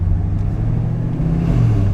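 A Camaro engine fitted with long tube headers held at part throttle, a steady low rumbling drone that barely changes, loud and close.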